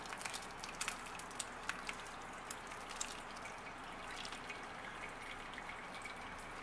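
Hot homemade wild blackberry syrup pours through a strainer into a glass mixing bowl, making a soft, continuous liquid rush with a few faint splashes and drips, alone and fairly quiet.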